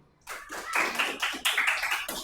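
A class claps together in a fiqh lesson, several distinct rhythmic bursts of clapping that start after a brief quiet and repeat in a patterned beat.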